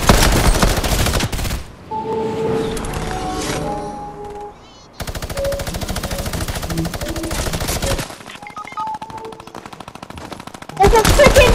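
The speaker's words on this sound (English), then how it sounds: "someone has a freaking minigun" Rapid, sustained bursts of minigun fire in the video game Fortnite, loud and close, rattling in long volleys broken by brief pauses.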